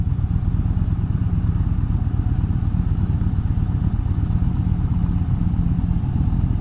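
A 2020 Yamaha Bolt R-Spec motorcycle rumbles through its exhaust while being ridden, a loud, continuous low drone with wind-like roar that holds steady throughout.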